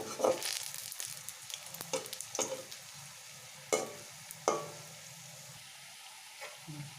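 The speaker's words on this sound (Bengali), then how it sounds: "এবার আমার এগুলো বেশ লাল লাল করে ভাজা হচ্ছে" Gentle sizzle of moringa-leaf fritters browning in oil, broken by clinks and scrapes of a utensil stirring and turning them, close by.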